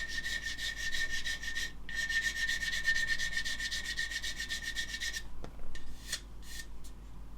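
A superglued seam on a plastic model kit is sanded in rapid back-and-forth rasping strokes that run for about five seconds with one short pause, then trail off into a few scattered scrapes.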